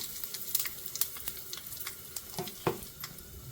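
Broken dried red chillies and asafoetida sizzle in tempering oil for a lentil stew, a close, steady crackle with sharp pops scattered across the few seconds.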